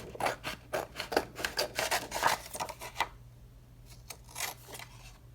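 Scissors snip and rasp through a paper tag for a tri-fold flower tag booklet, a quick run of close, crisp cuts for about three seconds, then a pause and a few softer snips.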